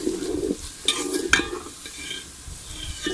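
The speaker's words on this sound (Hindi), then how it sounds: "घी आप अपनी ज़रूरत के मुताबिक डालें और अब मैं इसे फ्राई करूंगी। ये देखिए, प्याज हमारा फ्राई हो गया है।" Onions frying in ghee in a pan for a village-style shahi kofta, giving a steady close sizzle broken by a few louder scrapes and clinks of stirring, with no voices.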